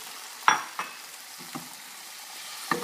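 Eggs for a vegetarian omelette sizzle steadily in a frying pan, a soft continuous hiss broken by a few sharp utensil scrapes and clicks against the pan, close by.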